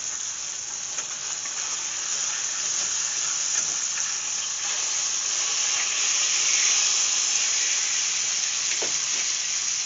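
Pork chops sizzle steadily in a hot pan, a bright, even hiss and crackle that holds close and constant throughout, with a few faint spatters and no talk.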